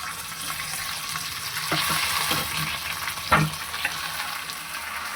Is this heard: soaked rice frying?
yes